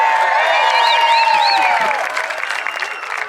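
A large outdoor crowd at a Defenders Day celebration claps and cheers steadily, a dense wash of applause with scattered whistles that holds loud for about two seconds, then thins slightly.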